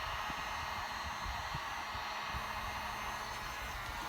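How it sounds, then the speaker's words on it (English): A heat gun set on high blows a steady, faint hiss and whir while melting encaustic wax, an even airy rush with no pauses. "I'll probably go ahead and just use a heat gun."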